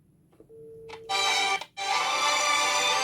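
An incoming-call alert on a WS-X9 Ultra smartwatch rings close by: a soft tone first, then a bright, sustained electronic ringtone that breaks off briefly and resumes.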